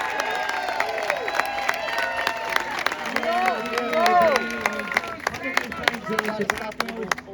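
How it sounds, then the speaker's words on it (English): A crowd at a rally claps and cheers steadily throughout, dense applause with scattered whoops, fairly close and loud. "Let's get a big round of applause for our borough president, Vito Pacello."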